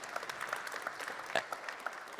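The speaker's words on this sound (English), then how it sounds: "Please, big round of applause for our presenter," Audience applause rises for a presenter at a space resources conference session, moderate and continuous with a few distinct claps standing out over the crowd's steady clapping.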